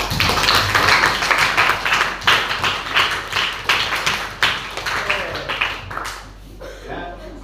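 A primary-school class claps together in a room, a dense run of many small hands with uneven bursts and a slight rhythmic pulse, loud and close, tapering off near the end.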